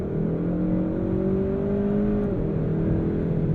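A 2022 Kia K5 GT engine accelerates hard, with a loud, steady drone whose pitch climbs and then dips briefly around a gear change before rising again. The run is continuous and close, with no voices.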